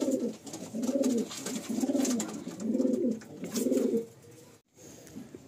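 Pigeons coo in a loft, with repeated low, rounded calls in a steady rhythm that are close and clear, then a brief pause near the end before softer cooing resumes.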